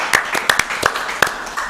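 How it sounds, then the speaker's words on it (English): A small club awards-night audience claps briefly for a runner-up, giving a short, scattered patter of hand claps with voices mixed in. "We'll clap her."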